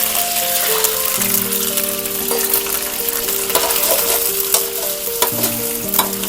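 Eggs fry in a pan with a steady, loud close sizzle and occasional stir clicks. A sustained tonal hum runs underneath throughout, and no voices are present.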